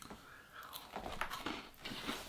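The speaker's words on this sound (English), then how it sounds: "My favorite part is the actual crunch of the wafer." A chocolate wafer bitten and chewed up close, a series of crisp crunches in an uneven rhythm over a couple of seconds, fairly quiet and heard without talk.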